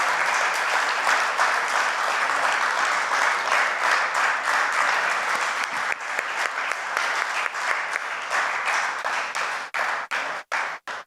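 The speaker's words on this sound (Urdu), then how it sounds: "سر آپ کی بھرپور تالیوں میں" Sustained audience applause at a birthday ceremony in a Lahore hotel hall, loud and dense from many hands, then thinning into scattered separate claps that trail off near the end.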